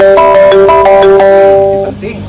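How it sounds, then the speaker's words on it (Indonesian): A telephone rings with a rapid, repeating electronic chime of bright tonal pulses, loud and close, before cutting off and fading, in a Sundanese comedy sketch. "Telepon Pak, angkat."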